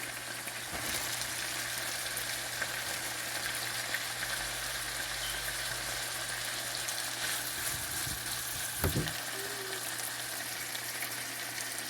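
Chopped onions frying in a pan for spicy pasta, a steady soft sizzle with a few stirring knocks and scrapes, fairly quiet and with no talking.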